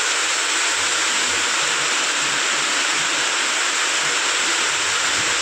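Heavy rain lashes open farmland in strong wind, a steady dense hiss with faint low buffeting underneath, constant and close throughout.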